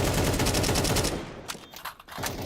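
Rapid bursts of automatic gunfire in a competitive first-person shooter tournament match, loud and dense at first, then thinning into scattered shots and a final short burst.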